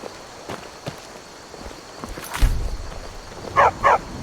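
A dog in Skyrim lets out two sharp barks close together near the end, after a run of soft footsteps and faint ambient game sounds.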